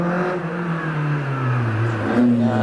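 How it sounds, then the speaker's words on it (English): A Peugeot 205 GTI rally car climbing a hillclimb course through a sequence of bends, its engine note rising and shifting as it passes fairly close, loud and continuous. "Paul Meadows on the hill in this 205 GTI. Quite a serious bit of kit. Heads through the S's"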